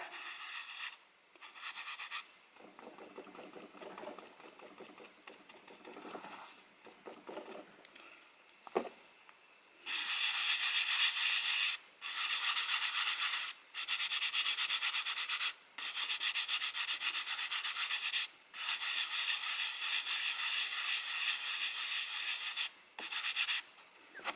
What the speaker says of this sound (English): now you just pounce, and then you can rub.